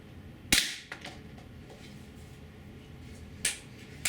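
Two sharp cracks from a Gamo P-900 IGT .177 gas-piston air pistol fired at a 20-foot target, the first near 0.5 s and the second near 3.5 s, each a crisp snap over quiet room tone.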